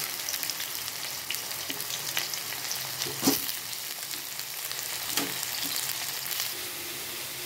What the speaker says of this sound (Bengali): এবার আমি কড়াইয়ে প্রথমে ঝিঙেটা দিয়ে দেবো।